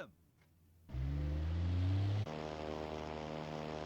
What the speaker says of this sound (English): VSSE chartered this private plane for him to carry all of his weapons